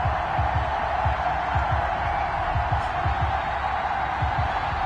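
A stadium crowd roars and cheers before a New York Giants vs Dallas Cowboys NFL game, a dense, steady wash of distant crowd noise throughout with faint low thumps beneath.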